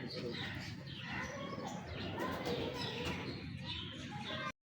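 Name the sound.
pigeons cooing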